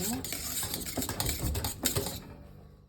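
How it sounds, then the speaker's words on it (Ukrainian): A spoon scrapes and knocks around inside a metal pot of custard cream in an irregular rhythm, close up, with faint clinks and no voices. "Видно, трішки ще помішаємо."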